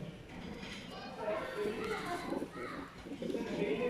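Pigeons coo in low, soft rolling phrases close by, mixed with a person talking and some background voices.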